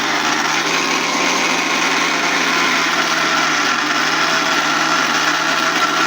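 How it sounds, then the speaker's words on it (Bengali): A blender purées a batter of shrimp, cabbage and lentils, its motor whirring loud, even and constant from start to finish with no pauses. "তো এই যে আমি এখন ব্লেন্ড করে নেব"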